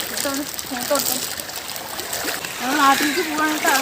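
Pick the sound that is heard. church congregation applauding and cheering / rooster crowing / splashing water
splashing water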